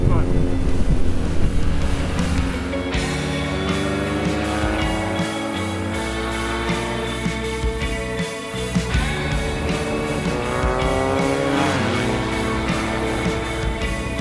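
A 2019 BMW R nineT Urban G/S motorcycle rides country roads, its engine droning loud and close through shifting revs and gear changes, with heavy wind buffeting throughout.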